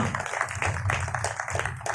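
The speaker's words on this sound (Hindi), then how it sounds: "ताली वाली बाजाओ, नाचो थोड़ा सा।" A church audience clapping together in a quick, steady rhythm, a continuous patter of many hands over a low room hum.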